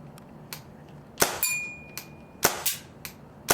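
A Tippmann M4 paintball marker on an HPA line is cocked and worked: a series of sharp metallic clacks and snaps, irregularly spaced and fairly close, one followed by a brief ringing tone.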